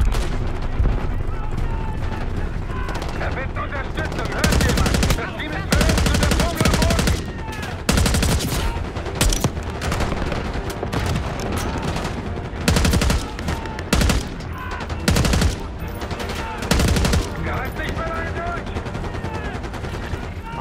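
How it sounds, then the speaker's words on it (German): Rapid bursts of gunfire and repeated heavy blasts crackle loudly and continuously in the video game Call of Duty: Black Ops 6, near a helicopter under heavy fire, with voices talking intermittently under the barrage. "Stehen beim Heli unter schwerem Beschuss."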